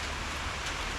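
Steady morning rain falling outdoors, a dense even hiss of drops with no distinct pattern and no voices.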